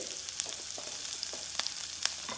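Chopped onion and fresh coriander fry in a pan, a quiet, steady sizzle dotted with sharp little crackles and pops, with no voices over it.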